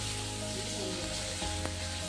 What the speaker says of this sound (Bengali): ভালো করে মশলাটা আমি কষিয়ে নিচ্ছি।